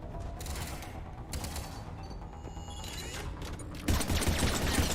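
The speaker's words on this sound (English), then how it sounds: "I hear the gunfire" Rapid bursts of gunfire crackle and rattle in a video game soundscape, with mechanical clatter and a louder volley near the end.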